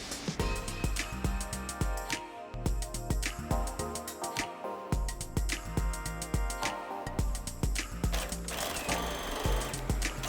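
Sewing machine stitching the top seam of a cloth mask, a steady rapid mechanical clatter of the needle that runs close and continuous with brief slowdowns and restarts.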